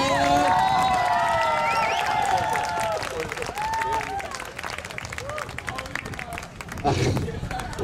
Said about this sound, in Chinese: 好，我们鼓掌啊！